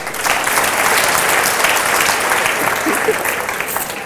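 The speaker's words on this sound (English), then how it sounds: "Give them a big clap." Steady applause from a room full of people, dense and continuous clapping that holds at an even level throughout before tapering slightly at the end.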